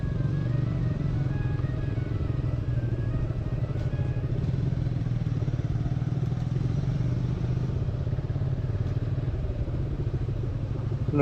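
A motorcycle rolls slowly into a parking area at a tourist spot. It makes a steady, moderately quiet low engine rumble with light clatter, and nobody talks.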